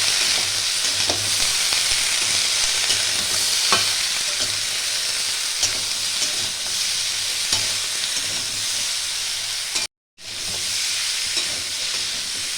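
Dried red chilli and four green chillies stirred and frying in a hot pan, a steady close sizzle with scraping spatula strokes throughout and a brief cut near the end; no talk.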